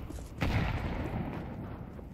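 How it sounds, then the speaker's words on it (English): A grenade explodes in a Counter-Strike-style shooter, a single muffled low boom that hits suddenly and then rumbles away under a steady background. "I hit him with this nade"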